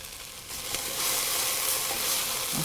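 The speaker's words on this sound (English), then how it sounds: "I'm just going to cook these until they become soft and the onions are translucent" Onions and other vegetables sauté in olive oil in a pan with a steady, even sizzle that grows slightly louder after the first second, close and continuous, with no voices.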